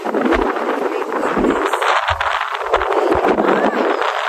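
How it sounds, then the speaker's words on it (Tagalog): Powerful waves surge onto the beach with continuous roaring wash, heavy low rumbles from wind hitting the microphone, close and loud with no voices. "Lakas ng alon."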